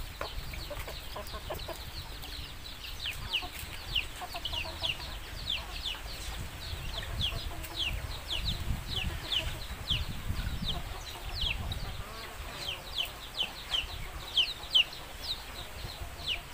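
Chickens crowd around while being fed on a farm, giving a continuous chorus of quick, high clucks and chatter over a low rustling background, with no talking.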